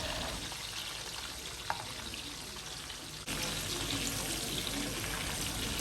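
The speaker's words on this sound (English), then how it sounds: "add my stinky fish or momone to fry for about 2 minutes just so that it is well infused in the oil" Stinky fish (momone) fries in hot oil for a Ghanaian beans stew, giving a steady, close hiss and crackle that continues throughout, with a short sharp click partway through and a slightly louder stretch toward the end.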